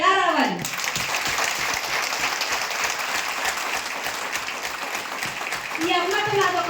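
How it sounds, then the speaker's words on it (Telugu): An audience applauds with dense, steady clapping that fills the space for several seconds. A voice is heard briefly at the start and again as the clapping ends. "చప్పట్లు ఎలా రావాలి?"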